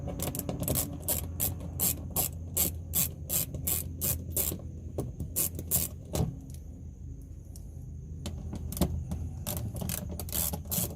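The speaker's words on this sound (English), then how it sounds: "To get started we need to remove the 3 7mm screws" A ratchet works 7mm screws loose under the bumper of a 2015-2020 Dodge Challenger, giving rapid close clicking bursts with metallic rattles and brief pauses between turns.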